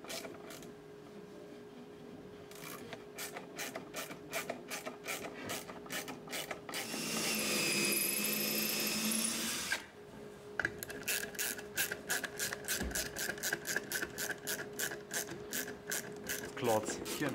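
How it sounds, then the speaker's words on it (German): Rapid clicking ratchet of a screwdriver driving screws into a DIY wooden bike holder, close and rhythmic, with a brief smoother whirring stretch midway before the dense clicking resumes. "Nehmt am besten einen Schraubendreher, um euren Fahrradhalter zusammenzuschrauben."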